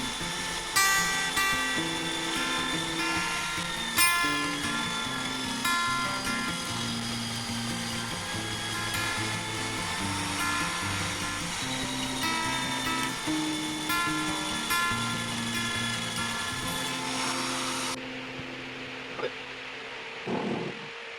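Power sanding a coolabah burl wood bowl with 120 grit on a lathe, with a fan running nearby, a steady whirring, buzzing drone with a constant pitched hum that stops abruptly near the end.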